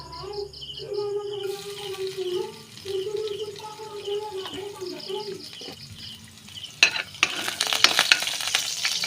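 Garlic hitting hot oil in a pan for anchovy bagoong, a sizzle that swells loud and crackly near the end, following a stretch of background music and faint talk.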